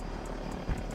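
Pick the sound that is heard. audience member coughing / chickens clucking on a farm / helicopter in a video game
helicopter in a video game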